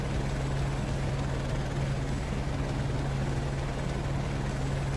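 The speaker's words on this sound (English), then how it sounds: "with a helicopter just following him around while he's doing practice" A helicopter hovers and follows a racer practising at a hay bale factory event, a steady loud rotor drone with a low hum and constant rumble, continuous throughout, with no voices.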